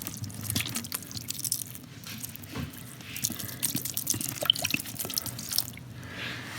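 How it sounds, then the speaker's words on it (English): Cleaning product poured into a bucket holding a dirty race air filter, a close series of drips and liquid splashes with small gurgles, fairly quiet and without talk. "So I'm going to pour a little of this product in here."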